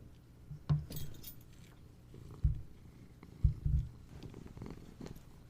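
A cat purrs indoors on a snowy day, a low continuous rumble close to the microphone, broken by a few louder thumps and rustles.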